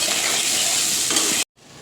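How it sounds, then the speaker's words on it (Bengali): Chicken coated in a spice paste fries in a hot kadai with garam masala, a loud continuous sizzle and crackle that cuts off abruptly near the end, then resumes more quietly. "চলো এটাকে ভেজে নিই।"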